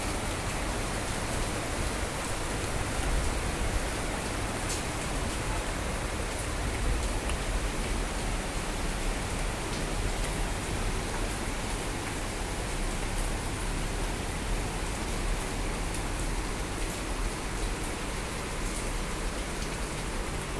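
Heavy summer rain in Vizag pours steadily onto surfaces and plants, a dense, unbroken hiss at constant loudness with faint scattered drips and no voices.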